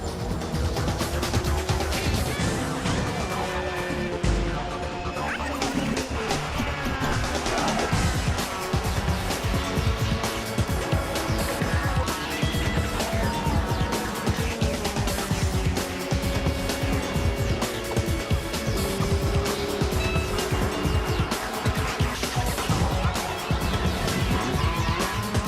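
Honda Civic Type R race cars compete in a race, and their engines roar steadily and loudly throughout, with passing surges and occasional tire squeal.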